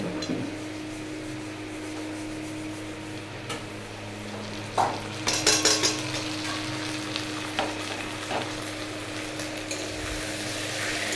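Onions fry in a pan as ground spices go in, a continuous sizzle broken by stirring scrapes and a burst of spoon-on-pan clatter partway through, with no talking.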